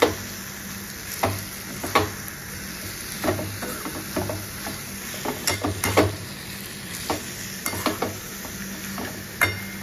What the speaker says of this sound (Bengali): এবার কষিয়ে নিয়ে মাংসটা দেবো, আর একটু কষিয়ে নিই, তারপর মাংস দেবো